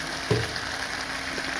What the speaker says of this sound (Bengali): এটাকে একবার নাড়াচাড়া দেবো, হালকাভাবে কষাবো